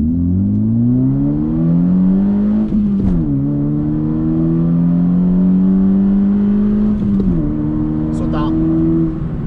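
A 2016 Honda Civic IX accelerates from a standstill to 100 km/h with a loud, steady engine drone that climbs in pitch, and two clear gear changes break the rise before it climbs again.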